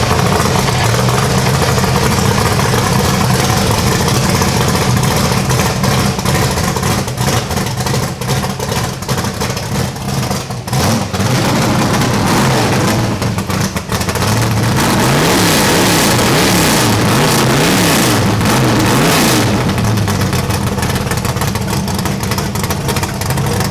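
A 1968 Ford Mustang Cobra Jet drag car with side-exit exhaust idles with a loud, rough, lumpy rumble up close, then the engine is blipped in several sharp revs before settling again.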